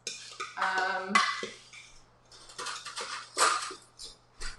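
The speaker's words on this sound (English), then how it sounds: "use one of those forks and just mix it together" A fork clinks and scrapes against a bowl while mixing seasoning for shredded chicken tacos, with irregular short taps and rattles close by and brief quiet gaps between strokes.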